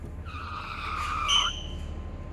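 Car tires screeching at night near an apartment building, a single sharp skid that builds for about a second and cuts off, loud over a low steady background rumble.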